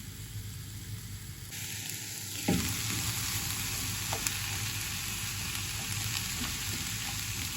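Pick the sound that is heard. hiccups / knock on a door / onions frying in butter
onions frying in butter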